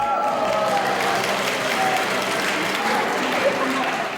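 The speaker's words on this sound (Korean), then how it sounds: "하객들은 아낌없는 박수를 보낸다" Wedding guests clap warmly for the groom after his song, a steady roomful of applause with some murmured voices under it, lasting a few seconds.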